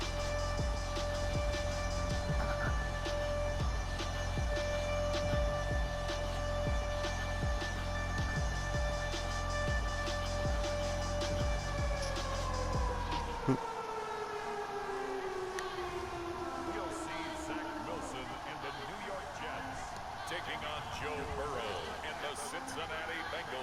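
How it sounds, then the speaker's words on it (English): A civil defense style siren wails at MetLife Stadium in New Jersey during a Halloween NFL broadcast. It holds a loud, steady rising tone, then winds down and falls away with a voice underneath. "sirens"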